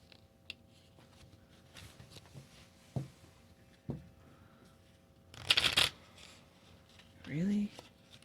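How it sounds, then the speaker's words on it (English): Handmade note-card tarot deck shuffled at close range: soft scattered taps and rustles, then a brief dense burst of riffling cards, followed by a voice. "I just want to shuffle"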